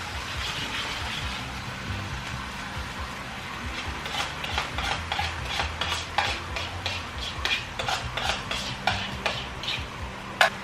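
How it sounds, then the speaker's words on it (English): Chicken lo mein noodles get stirred in a hot pan, a utensil scraping and clicking in quick irregular strokes over a soft steady sizzle, close and fairly quiet with no talking. "And now I'm just going to stir it up and turn this fire down now."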